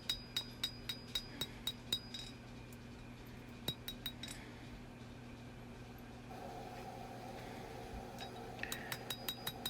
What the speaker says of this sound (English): Now I'm hammering that edge down so you can see how the spine drops toward the point.